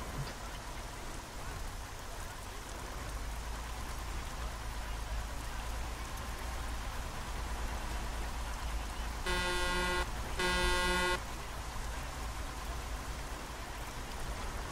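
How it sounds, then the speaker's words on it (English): A car horn sounds in two short honks in traffic on a rainy road, with steady rain noise and vehicle rumble underneath throughout. "Why are you honking?"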